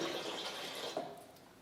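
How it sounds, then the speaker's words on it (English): Liquid nutrient solution poured into an aeroponics tower reservoir, a brief steady splashing pour close by that fades slightly toward the end. "I'm going to put about 200 mils of each of the solution into the reservoir here"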